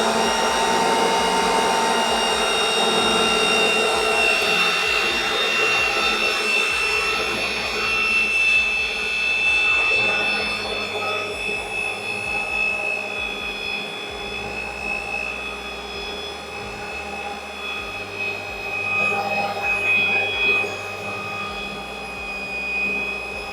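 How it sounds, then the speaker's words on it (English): Pipe threading machine cutting a thread onto a bare pipe end, a continuous loud motor whine with steady tonal hum and a low grinding rumble underneath, running unbroken throughout. "we are going to thread our bare end"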